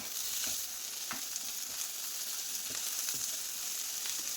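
Onions, curry leaves and salt fry in hot oil for an egg kabab, a steady close sizzle broken by several soft scraping stirs of a spoon through the pan.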